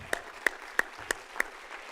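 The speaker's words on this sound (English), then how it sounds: "Let's give that a big round of applause." Graduates of public education are applauded by the audience at a presidential installation ceremony, with steady hall-wide clapping and a few sharper, louder claps standing out at regular intervals.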